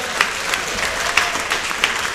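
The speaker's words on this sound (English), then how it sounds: "Give yourself a clap." Audience applause at the Celebrate Morgan Hill 2011 community event: a steady, dense wash of many hands clapping, with a few sharper claps standing out over the crowd.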